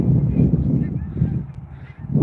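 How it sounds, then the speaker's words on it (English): Geese honk outdoors beside a river, a cluster of loud nasal honks close by, overlapping and fairly continuous, with a brief lull before another burst. "Oh, there's the geese out."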